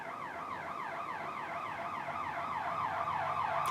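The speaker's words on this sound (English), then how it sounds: "police vehicles always go by when I'm doing these videos." Police vehicle sirens pass close by in a steady, moderately loud wail that rises and falls in repeated sweeps, with no talk over it.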